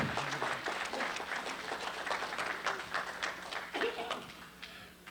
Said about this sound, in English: So will you bring on and applaud and welcome Patti Conklin again, please.